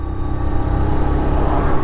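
A Bajaj Pulsar 125 Neon motorcycle cruising on a smooth highway, its engine giving a steady, loud low drone blended with road and wind noise, with no voices.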